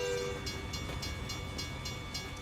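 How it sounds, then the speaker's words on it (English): Train passing in American Truck Simulator, a brief horn note at the start over a low rumble, then evenly spaced wheel clacks as the cars roll by at moderate volume. "lots of train happening right now"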